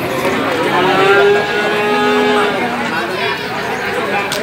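A busy outdoor cattle market for bulls in Magetan, East Java, with cattle lowing amid a steady crowd murmur and people chattering nearby.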